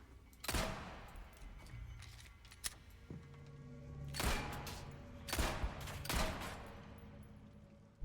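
Gunfire in Resident Evil 4 Separate Ways, a few sharp shots spaced several seconds apart with ringing tails, faint and layered over game ambience and tonal music.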